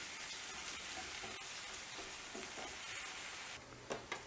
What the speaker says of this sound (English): I'm going to saute my veggies. Let's start with the green onions.